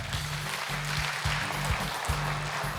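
Audience applause at an award ceremony, a dense, steady wash of clapping from a crowd that continues evenly throughout, with a low droning tone running underneath.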